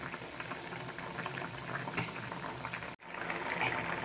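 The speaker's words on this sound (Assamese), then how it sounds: "এয়া দেখিছে আঞ্জা পুৰা" A pot of pigeon meat and banana stem curry boils steadily, with dense bubbling and popping throughout, briefly cut off near the end before resuming.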